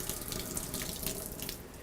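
Water from a Grohe shower faucet runs steadily into a cup with a close, soft splashing rush, constant and unbroken.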